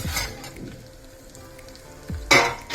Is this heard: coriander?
yes